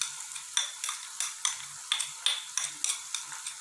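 Ginger and garlic paste frying in oil with golden browned onions for chicken rogan josh, a steady sizzle broken by repeated rhythmic stirring scrapes, close and moderately loud, with no talking.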